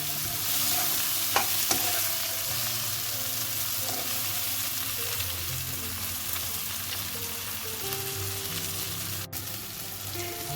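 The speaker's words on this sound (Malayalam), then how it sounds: "ഇങ്ങനെ ഇളക്കി കൊടുക്കാം. ഇനി അതൊന്ന് വേഗട്ടെ, തക്കാളി ഒന്ന് വേഗട്ടെ കേട്ടോ." Tomatoes cook in a pan with a steady, even sizzle throughout, and a few soft scrapes and knocks of stirring come near the start. There is no talking.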